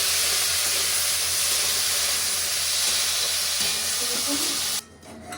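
Potatoes fry in a covered pan with salt and a little turmeric, a loud, even hiss of steam and sizzle that holds steady, then cuts off abruptly near the end.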